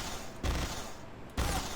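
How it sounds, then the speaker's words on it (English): Two sharp incendiary gunshots fired from a weapon in the Garry's Mod Sanctum 2 mod, each a loud, close boom with a short tail, spaced about a second apart. "Hold E and left click, and suddenly your shots are incendiary rounds."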